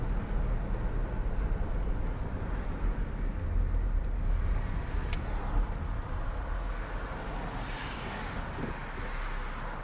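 Steady wind and road roar inside a 2006 Mercedes-Benz SLK280 7G-Tronic with the hood up, cruising along a motorway, with a constant loud broadband rumble and occasional faint ticks throughout.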